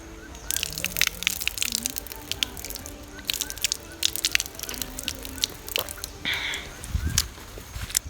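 Water gushes and splashes from an outdoor tap at a large hill-country bungalow in Sooriyakanda. The flow is broken by sharp handling clatters and drips, and people talk nearby.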